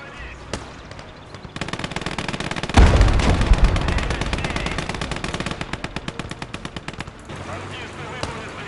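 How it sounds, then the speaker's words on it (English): Machine-gun fire in the WWII strategy game Gates of Hell: Red Star Rising, with long rapid bursts of loud shots and a heavy blast near three seconds, followed by steady rattling volleys against a battle backdrop. "That's a mortar or machine gun nest."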